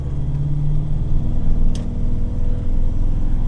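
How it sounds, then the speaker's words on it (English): Land Rover 110 with a small, torquey engine pulling on a ride, a steady low rumbling drone throughout with no talk, heard from inside the vehicle. "Got a lot of torque, these little engines"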